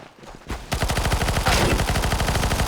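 Rapid automatic gunfire in the video game CS:GO, a dense, loud rattle of evenly spaced shots that starts abruptly after a brief quieter moment and runs continuously.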